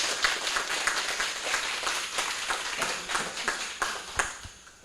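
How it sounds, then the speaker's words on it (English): An audience at an NHS trust annual general meeting gives a round of applause, a scattered but steady run of hand claps at moderate volume, tapering off at the end. "give a good round of applause, please, to Alexis and Frank"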